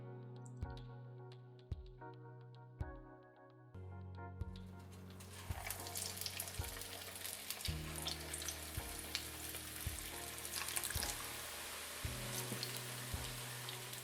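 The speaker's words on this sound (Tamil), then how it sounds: "இது எல்லாத்தையும் இப்போ நம்ம எண்ணெயில் பொரிச்சு எடுத்துடலாம்." Cabbage kofta balls deep-fry in hot oil with a steady bubbling sizzle that swells as more balls go in. Sharp clinks of a utensil against the pan repeat through it, close by and fairly quiet.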